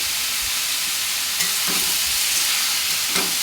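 Chopped gourd with salt and turmeric stirred in a pan, giving a steady loud hiss and sizzle with a few soft scraping clunks of the spoon, close-up and with no voices.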